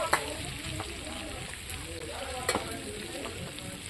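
Mixed vegetables sautéing in a pan, a steady close sizzle with occasional sharp scrapes and taps of a stirring spoon, and a voice speaking faintly underneath.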